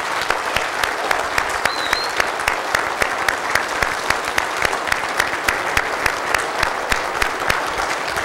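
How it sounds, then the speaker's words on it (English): A church congregation applauds a Lutheran ensemble after a Sunday service performance, loud sustained clapping with crisp individual claps throughout and no talk. "These folks can still hear your applause."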